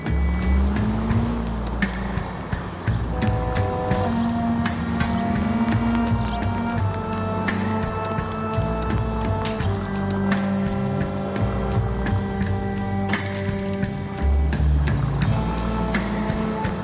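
A period car driven at speed in L.A. Noire, its steady engine drone and shifting tones running throughout, moderately loud with faint tonal game sounds layered over it.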